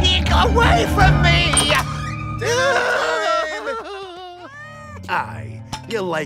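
A cartoon cat meows and yowls several times, the cries clear and close with gliding pitch, amid animated character dialogue and music in a children's Peter Rabbit adventure.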